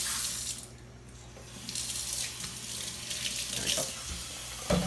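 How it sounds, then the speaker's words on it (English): Cold tap water runs steadily into a bowl to wash sweet rice for bibingka, a continuous splashing stream with a few clinks and shifts of the flow, and no speech over it. "Next we're gonna wash the rice."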